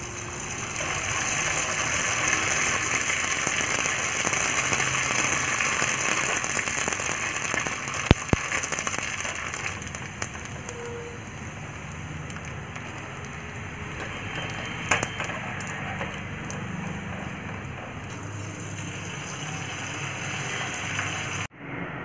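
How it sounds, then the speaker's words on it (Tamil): Sun-dried murukku vathal frying in hot oil, a steady dense sizzle and bubbling that holds for over twenty seconds, with a couple of sharp pops and crackles, no talking. "இப்போ நம்ம வறுத்து பார்ப்போம்."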